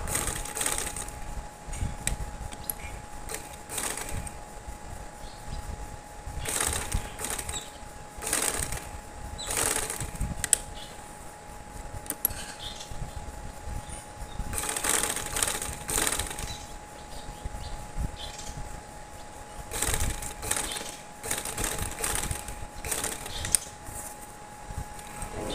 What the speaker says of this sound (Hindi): अब इसको मैं यहाँ पे सीधा रखूँगी और सिलाई लगाऊँगी।